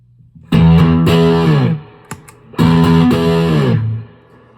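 Electric guitar run through stacked Kingsley Mason and Harlot tube overdrive pedals in high gain mode, playing two loud, sustained distorted chords that ring out alone, with a brief muted pick scrape between them.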